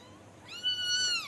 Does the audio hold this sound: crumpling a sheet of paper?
no